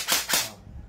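Two sharp, snappy airsoft gunshots in quick succession, close and crisp, followed by a faint mechanical rattle.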